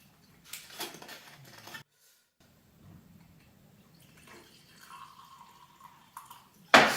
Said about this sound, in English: already pouring that, I can see it's quite a dark rum